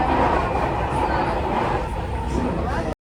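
A Delhi Metro train rolls along with a steady, loud rumble and faint background voices, then the sound cuts out abruptly just before the end.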